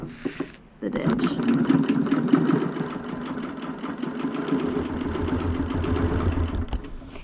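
BERNINA Q 24 longarm quilting machine stitching in the ditch with Aurifil thread, a steady mechanical whir with a rapid stitching pulse that starts after a brief quiet moment and runs continuously, fairly close.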